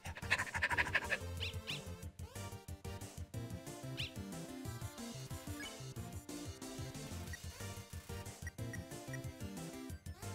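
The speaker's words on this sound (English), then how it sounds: "You barely lifted your hand and lesser dog got excited." Lesser Dog from the game Undertale pants excitedly in quick, rhythmic breaths over tinkling game music, the panting fairly clear at the start and continuing under the tune.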